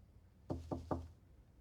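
Three quick knocks land on a door, evenly spaced and fairly close, each a short hollow thud against a quiet background with no voices.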